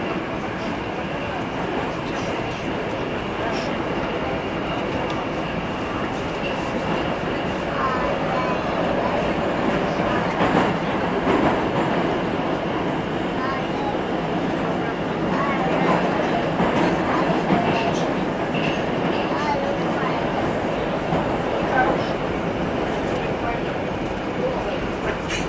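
A 2017 Metrowagonmash 81-765/766/767 "Moscow" train on Moscow Metro Line 6 runs with a steady loud rumble and rail noise from inside the car, continuous throughout, with voices faintly present.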